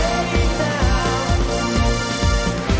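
Synth pre-chorus over a jazz-style beat: dense, loud sustained chords with steady kick-like thumps, alone with no talk.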